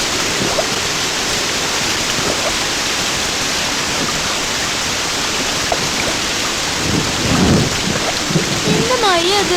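Heavy monsoon rain hisses loud and constant, with a low thunder rumble underneath and faint voices briefly audible near the end.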